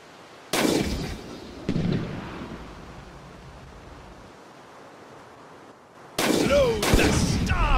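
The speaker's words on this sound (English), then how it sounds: "Load the starboard cannons!" Heavy booming ship cannon blasts in the video game Blackwake ring out in separate bursts, two early and a cluster near the end, each trailing into a rumbling decay over background noise.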